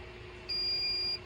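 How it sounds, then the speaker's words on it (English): A single high-pitched electronic beep from a heat press timer sounds clearly for under a second against a quiet background hum. "And then it beeps."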